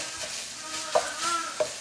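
Ground beef sizzling in a pan while a utensil stirs and mashes it, a steady close fry hiss broken by a few scraping knocks.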